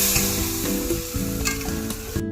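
Dal is stirred in a hot pan, with repeated scraping strokes in an uneven rhythm over a constant close sizzle, and no voices.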